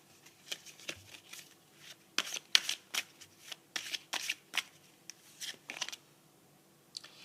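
Playing cards shuffled by hand during a tarot-style card reading, a run of crisp riffling bursts and snaps at close range, irregular in rhythm, with no talking.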